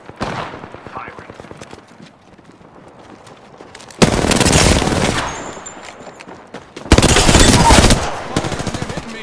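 Video game gunfire comes in two loud, dense bursts of rapid automatic shots with quieter scattered shots between them, while a voice talks.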